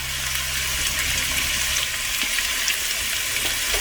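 Onion, green chili, ginger and garlic frying in a pan for mushroom masala, a dense close sizzle holding steady and fairly loud throughout the short stretch, without any voices.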